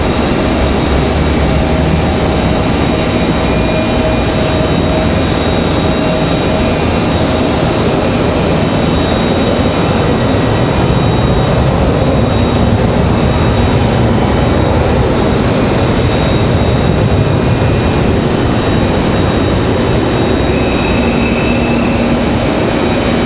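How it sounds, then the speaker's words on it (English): Bombardier Global 6000 business jet arriving at Raleigh-Durham airport, a steady loud broadband roar with a faint whine that holds for the whole stretch, no voices. "It's a Bombardier Globe 6000."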